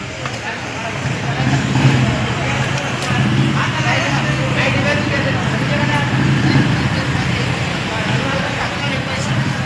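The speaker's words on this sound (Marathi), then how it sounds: "आता आल्या बघा गाड्या लय मोठ्या" Large vehicles rumble past one after another on a nearby road, a loud continuous engine drone swelling and fading, with someone talking over the traffic.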